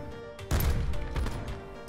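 Gunfire in a shooter video game, with a couple of sharp loud bursts of shots rising out of quieter game background over under two seconds.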